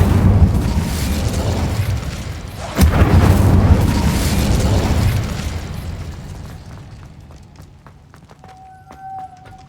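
A fiery Incendio spell blast from the Hogwarts Legacy video game: a loud, sharp burst lands near the three-second mark, then a roaring crackle slowly fades, with a faint tonal chime near the end.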